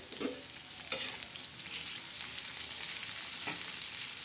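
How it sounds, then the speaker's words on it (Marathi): Chopped onion sizzles in hot oil for a Marathi-style tempering, a steady bright hiss with a few scraping stirs of the spoon, close and continuous with no voices. "हा कांदा चांगला नरम करायचा म्हणजे चांगला तडका द्यायचा"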